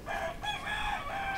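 A rooster crows nearby in a residential yard on a cold November day, one sustained cock-a-doodle-doo call with a few rising and falling segments, clear and fairly loud, heard alone.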